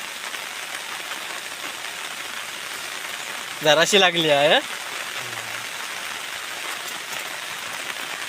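Steady heavy rain hisses continuously over a creek during a fishing outing, with a short burst of talk breaking through briefly near the middle.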